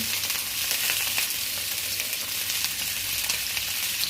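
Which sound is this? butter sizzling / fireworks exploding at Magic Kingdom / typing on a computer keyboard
butter sizzling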